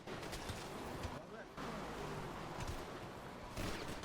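Dense, rapid gunfire crackles nonstop in Grand Theft Auto V, including shooting from a vehicle, with a brief dip partway through, loud and steady throughout.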